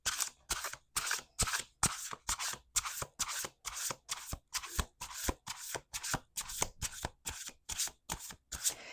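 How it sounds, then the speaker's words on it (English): Tarot cards are riffle-shuffled over and over in a steady rhythm, each shuffle a crisp fluttering burst close to the listener, with no talking. "Two more shuffles."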